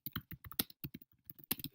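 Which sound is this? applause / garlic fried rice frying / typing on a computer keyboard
typing on a computer keyboard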